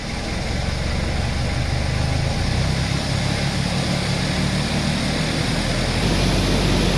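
An air conditioner compressor runs with a steady loud mechanical drone, a low rumbling hum that rises slightly in pitch as it revs, continuous and close.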